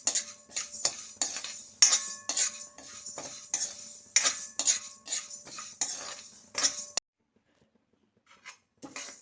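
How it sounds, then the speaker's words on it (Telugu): Toor dal dry-roasting slowly in a pan, a close run of rhythmic scraping and rattling spatula strokes with metallic clinks that stops abruptly, followed by near silence and one faint final scrape. "కందిపప్పు నిదానంగా వేయించుకోవాలండి"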